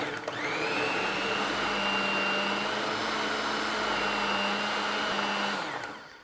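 A food processor whirls sundried tomato torte ingredients with jalapeno and shallot, a steady loud motor whine that spins up at the start, holds evenly for about five seconds, then winds down, with no talking.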